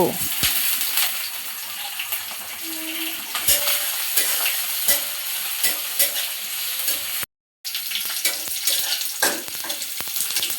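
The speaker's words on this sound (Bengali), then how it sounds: "হালকা একটু লাল করে ভেজে" Chopped onion and crushed garlic fry in hot oil in a pan, producing a steady, close sizzle punctuated by scraping stirs and sharp ticks, briefly dropping to silence before the sizzling resumes.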